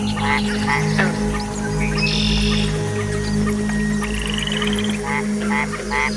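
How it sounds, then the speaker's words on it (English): Mexican white-lipped frogs chirp in short repeated bursts against a dense night jungle chorus of croaks and insect-like trills, steady and fairly close. "the Mexican white-lipped frog makes a series of chirping sounds."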